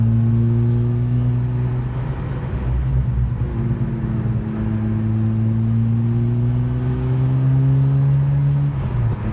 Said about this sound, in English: Sound of that 13B behind you.